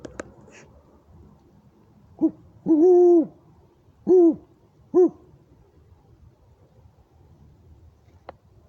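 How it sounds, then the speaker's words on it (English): An owl in night woods gives a short run of hoots, about four or five moderately near calls with uneven spacing, between quiet stretches of faint background. "just heard the owl going through there across the road and in the trees. That one hoot"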